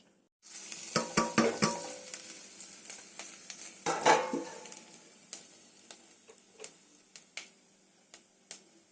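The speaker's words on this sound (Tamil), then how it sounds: "கடுகு பொறிஞ்சி வந்துருச்சு இப்போ வந்து மசாலா ஐட்டம்லாம் போட்டுக்கிறோம்" Spices drop into hot oil just after mustard seeds have spluttered, bringing sharp crackles and pops with scraping stirs; a busy burst of sizzling eases into sparse, isolated pops ticking out one by one.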